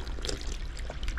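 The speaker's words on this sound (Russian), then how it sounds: "Здесь рекомендуют посетить вот этот вот питьевой фонтанчик" Water from a drinking fountain in Armenia, a short, quiet, continuous splashing trickle with no voices.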